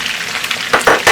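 Balochi tikka pieces fry in a pan until golden, a loud continuous sizzle with a few sharper bursts of stirring and turning near the end; no voices.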